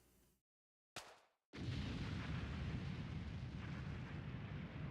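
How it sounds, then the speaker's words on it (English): A loud explosion in the game Suikogaiden Vol. 2 at a chapel altar: a short burst and pause, then a sustained roaring, rumbling blast that fills the rest of the clip, with no voices. "the destruction caused by the explosion that spread from the altar"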